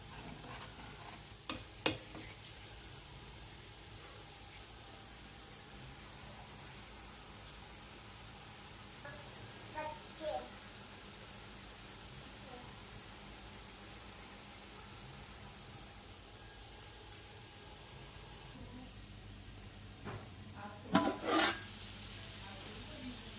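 Gajar ka halwa of grated carrot simmering in reduced milk is stirred in a pan over a low flame, a steady soft sizzle running throughout with a few brief scraping clinks of the spoon against the pan.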